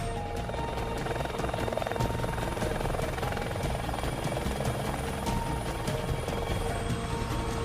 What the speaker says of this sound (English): I didn't know you could fly an helicopter.